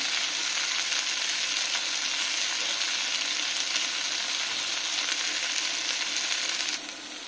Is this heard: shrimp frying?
yes